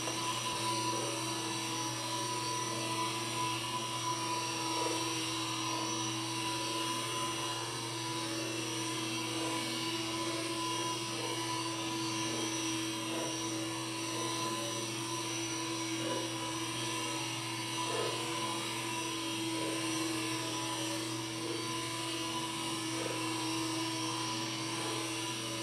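A radio-controlled helicopter flies aileron tic toc manoeuvres, its rotor and motor whine steady and loud for the whole stretch, with a sustained high buzzing drone and no talking.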